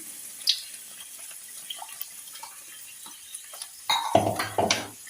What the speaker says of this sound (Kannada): ನೀರಿತ್ತು ಅದನ್ನೇ ಹಾಕ್ತಾಯಿದ್ದೇನೆ